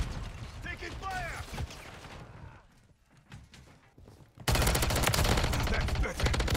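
Gunfire in Call of Duty MW3 arrives in dense, loud bursts of rapid shots, then dips into a quieter stretch of mechanical clatter before an intense, sustained volley erupts at the end.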